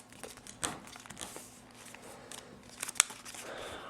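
Paper is folded and creased while making a paper F-14 Tomcat. Soft, close crinkles and rubbing sounds come in short bursts, with a sharper crackle near the end.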